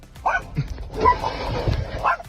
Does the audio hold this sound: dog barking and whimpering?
yes